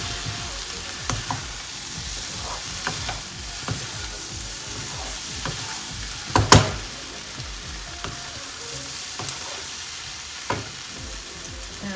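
Okra sautéed with onion, ginger julienne and coriander in a pan gives a continuous close sizzle, broken by periodic scraping and stirring knocks and one sharp clatter midway.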